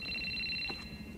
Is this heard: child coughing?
no